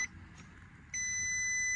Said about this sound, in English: I'm just gonna leave it like this with this annoying beep.